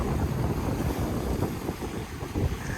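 A Morgan 382 sailboat cruising under sail against the tide, with steady loud wind buffeting the microphone and waves rushing along the hull, a continuous broadband roar with no voices.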